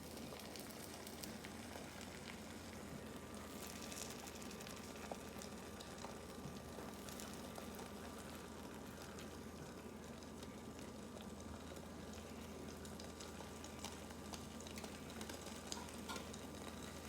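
Egg cooking in a pan, giving a steady, faint sizzle and soft bubbling that runs evenly throughout with no talking.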